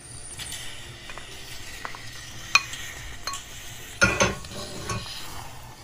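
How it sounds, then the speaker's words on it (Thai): A spoon stirs Thai sticky rice pudding with young coconut flesh and longan in a pot, soft scraping and swishing with a few sharp clinks against the pan, close and fairly quiet. "ผสมให้เข้ากันเลยค่ะ"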